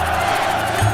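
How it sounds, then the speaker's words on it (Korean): A crowd roars in a dense, steady wash of cheering voices, loud and continuous over one short second. "그런 소녀의 괴력에 다들 환호했죠."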